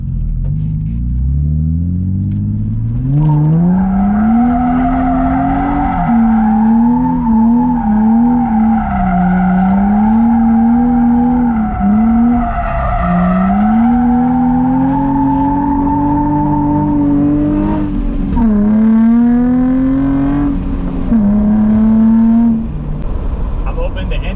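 A Nissan 350Z with a welded differential spins donuts, its engine droning loud and close with a pitch that swells and dips as the throttle works, a rough rumble and tire scrub running underneath throughout.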